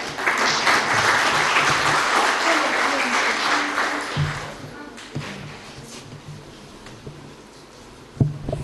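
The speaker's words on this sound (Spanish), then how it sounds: "Recibimos con un aplauso al profesor Fernando Santibáñez." An audience at an agricultural talk on climate change applauds to welcome a professor, loud sustained clapping for about four seconds that thins into scattered claps and quieter room noise, with a few sharp knocks near the end.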